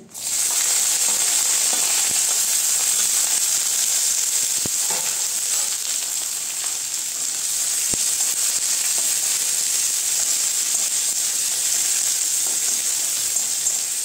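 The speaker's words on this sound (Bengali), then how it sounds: "এই যে পেঁয়াজ কুচিগুলো আমি দিয়ে দিচ্ছি" Chopped onions sizzle in hot oil for an egg do pyaza, a steady bright hiss that holds constant throughout, with a few faint clicks of stirring and no talk.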